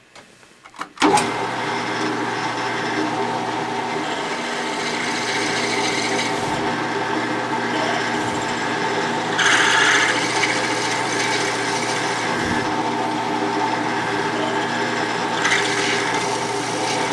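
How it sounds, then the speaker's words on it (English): A drill cuts a hole with a 1/4 inch bit, 1/8 inch deep, while a steam engine valve chest is machined, a steady loud whirring grind running continuously after a sudden start. "So now we're going to drill with the 1/4 inch bit,"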